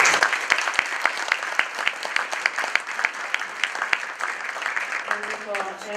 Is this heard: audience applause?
yes